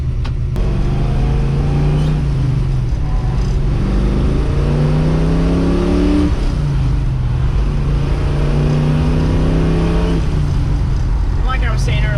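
A 1970 Ford Mustang Boss 302 with a four-speed manual accelerates hard, its loud, close V8 note climbing in pitch through repeated gear changes, each shift dropping the revs before the engine pulls up again.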